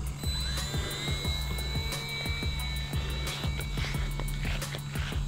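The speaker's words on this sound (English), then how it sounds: "This is so easy to fly." A HobbyZone Sport Cub S 2 ready-to-fly RC airplane flies overhead, its small electric motor holding a high, thin, steady whine that shifts slightly in pitch. A faint ticking runs underneath, and no one speaks.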